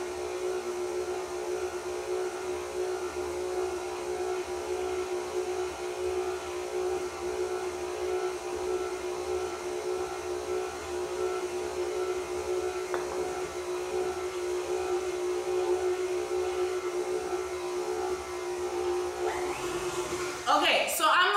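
An electric mixer running on low speed through cheese straw dough, a steady close whir with a humming tone that continues unbroken, ending with a brief clatter.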